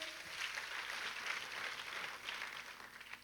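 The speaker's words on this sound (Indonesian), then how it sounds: "Kita kasih tepuk tangannya yang paling meriah buat Tuhan kita." Congregation in a church service clapping for God, a steady wash of enthusiastic crowd applause sustained across the moment, moderately loud with no talking over it.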